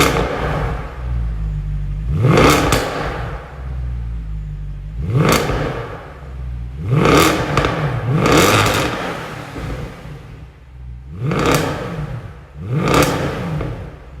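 A Mercedes C63 Black Series with a 6.2-liter V8 is revved repeatedly, loud rising exhaust blips over a burbling idle, roughly half a dozen throttle bursts close by.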